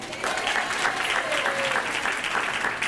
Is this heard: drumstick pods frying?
no